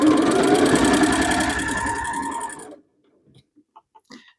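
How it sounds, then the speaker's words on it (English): A sewing machine stitching a second hem along a fabric strip gives a rapid, steady mechanical whir with a fine ticking rhythm for under three seconds. It stops abruptly, and a few faint small clicks follow. "now I'm going to sew the second hem on this"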